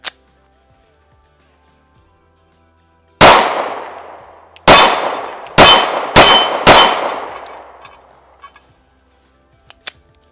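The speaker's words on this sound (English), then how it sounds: "Shoot a little bit faster and see how easy it is to control the recoil on this gun." Five sharp metallic rings, two of them close together, from Sig P365 pistol rounds striking steel plate targets at a range, each followed by a long decaying ring, then a faint lone clink near the end.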